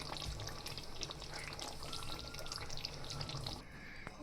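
Fresh green coriander gets stirred into matar paneer in a pan, a quiet sizzle with scattered spoon scrapes and small clinks that fades near the end.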